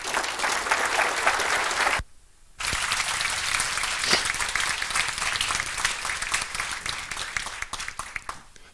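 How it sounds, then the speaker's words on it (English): Loud, dense conference audience applause at GodotCon 2023 welcoming a rendering talk speaker, steady throughout with a brief drop near the two-second mark before resuming at full strength. "So, applause for Clay"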